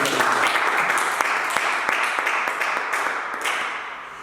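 A church congregation applauds to acclaim the Lord, with steady, dense clapping close by that carries on without a break and fades a little toward the end.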